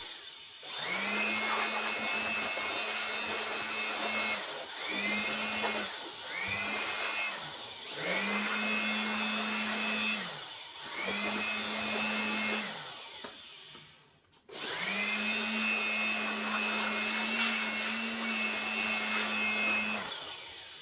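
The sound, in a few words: air blower blowing dust out of a PC case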